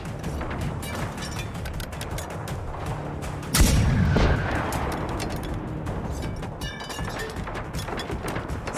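A missile blast in the shooter video game Generation Zero, one sudden loud boom mid-way with a rumbling tail, set among rapid repeated gunfire cracks and mechanical clatter from the game's combat.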